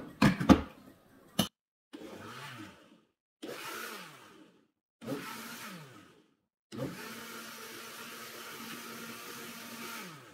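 A kitchen blender pulses carrot brownie batter in short bursts: three brief whirring spurts separated by silence, then a longer sustained run of the motor, fairly close and alone after a couple of knocks at the start.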